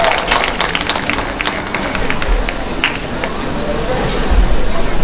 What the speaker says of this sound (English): Let's give these two young men a nice round of applause.